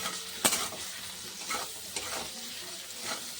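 Eggplant slices fry in a pan seasoned with turmeric and salt, giving a steady close sizzle broken by a few sharp stirring scrapes and clinks, with no voices.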